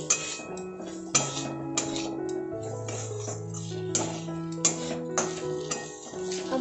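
A utensil scrapes and clinks against a pan as flour is mixed into fried chicken, a steady run of metallic taps and clatter, close and moderately loud.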